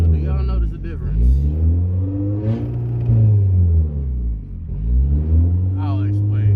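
Honda car engine revving hard with loud turbo noise, repeated rising and falling sweeps of a throaty rumble at close range, with no window in the exhaust system; a voice is heard briefly between the revs.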